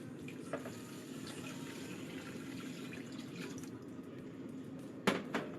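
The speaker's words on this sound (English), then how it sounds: "Now we're going to add in our water." Water poured into a pot of rice, a steady, soft, continuous splashing and trickle with a faint slosh near the end, low in level and heard alone.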